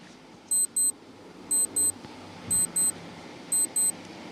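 An on-screen countdown timer beeps in paired high bleeps about once a second, four pairs in all, over a soft steady background.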